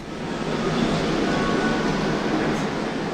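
A steady, loud rumble of a Montreal metro train running underground, a dense continuous roar without pauses.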